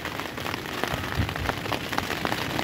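Steady rain falling on an open fishing spot, a dense, even hiss of drops close by with scattered louder patters and no voices over it.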